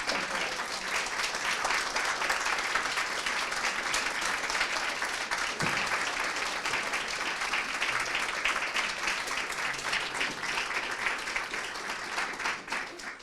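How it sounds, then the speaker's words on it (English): Sustained audience applause for a group of lightning-talk speakers at a psychosocial session, a dense steady wash of many hands clapping at even loudness throughout, with a brief low voice or thump partway through. "We can give them another round of applause."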